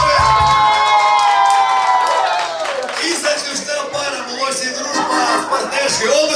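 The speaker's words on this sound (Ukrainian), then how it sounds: "Оплески!" A loud crowd claps and cheers together at a dance competition, with whoops and shouts rising over music and voices in a lively hall.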